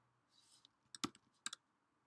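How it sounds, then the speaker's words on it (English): A password typed on a computer keyboard in a terminal: a handful of quick, soft key clicks in a short uneven run, close and quiet against a faint background. "Type in your password."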